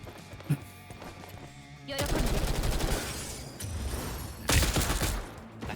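In the video game Girls' Frontline 2: Exilium, supporting gunfire breaks out as a sustained rattling fusillade with a louder burst near the end, after a quieter lead-in.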